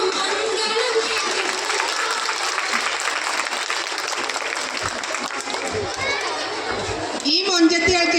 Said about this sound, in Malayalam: ഈ മൊഞ്ചത്തികൾക്ക് ഈ കയ്യടി പോരാലോ.